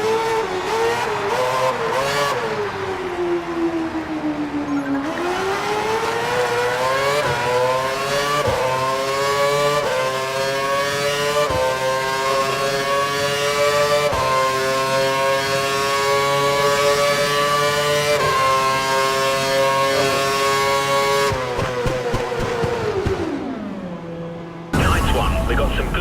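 A Formula One race car in the F1 2012 video game revs continuously, its engine pitch climbing and falling through gear changes for about twenty-five seconds, loud and close, ending with a brief drop at the end.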